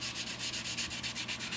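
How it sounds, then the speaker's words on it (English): A G&L Tribute Series Fallout guitar body being sanded by hand, a rapid rhythmic back-and-forth rasp of about ten even strokes, close and steady with no talk. "now I'm just at the very end, gently sanding away here"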